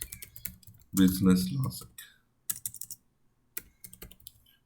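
Keys click on a computer keyboard while code is typed, in short irregular bursts between pauses, with someone speaking briefly near the start.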